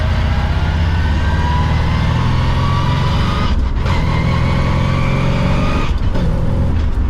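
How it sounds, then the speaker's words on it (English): A 1955 Chevy fitted with a NASCAR transmission accelerates hard, its engine a loud, steady roar heard from inside the car, with brief dips in the sound near four and six seconds that suggest gear shifts. "let's get a little room here so we can accelerate"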